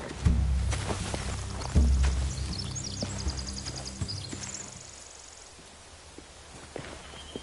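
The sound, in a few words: horses walking, from the video game The Walking Dead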